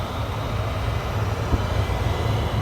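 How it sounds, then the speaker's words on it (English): A Rheem tankless water heater's burner flame burns steadily after a freeze repair, producing a continuous, close, fairly loud roaring hiss with a low rumbling underneath and no talking. "The flame there that's heating up. You can hear it"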